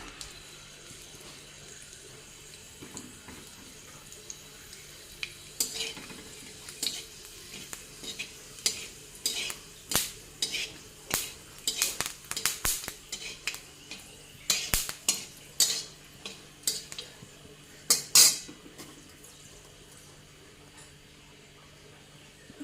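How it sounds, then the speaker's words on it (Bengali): Dried red chillies fry in hot oil in a pan, a soft sizzle under irregular clinks and scrapes of a spoon stirring, growing busier midway. "এখন দিয়ে দিই তেল দিয়ে দিচ্ছি শুকনো লঙ্কা"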